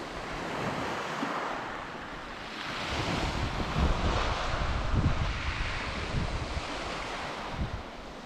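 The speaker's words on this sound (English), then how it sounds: "the roar from these waves rolling in here" Ocean waves rolling in and breaking on a rocky Scottish shore, a continuous roaring surf with heavier crashes partway through, mixed with strong wind buffeting the microphone.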